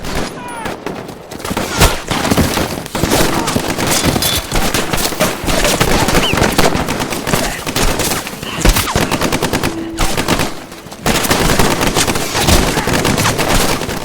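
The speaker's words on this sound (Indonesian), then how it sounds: "pasukan Amerika terus saja melepaskan tembakan untuk membasmi para pasukan Jepang" Dense battle gunfire on Iwo Jima crackles almost nonstop, rapid bursts and single shots layered together, loud and chaotic, with brief lulls and faint voices mixed in.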